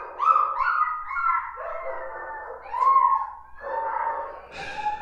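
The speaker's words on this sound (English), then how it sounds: "several dogs were whimpering loudly" Several dogs whimpering loudly outdoors on a January morning in North Carolina: overlapping high, wavering whines and drawn-out howl-like cries, close and continuous for several seconds, ending in a rougher yelp, with no talking.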